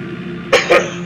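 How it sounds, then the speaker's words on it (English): Two quick, sharp coughs from a person with a cold, close to the microphone, one right after the other, over a low steady background hum. "I have a cold, so get used to coughing."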